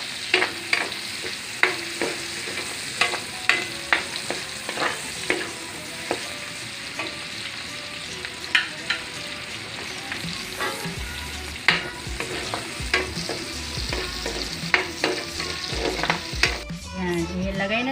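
Garlic frying in hot pork fat gives a steady, loud, close sizzle, with regular spatula scrapes and stirring clicks against the pan running through it.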